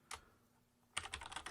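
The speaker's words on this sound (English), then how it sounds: "I'm just typing in some gobbledygook to give us some context here" Typing on a computer keyboard at a desk: a single keystroke, a pause, then a quick run of clicky taps, close and fairly quiet.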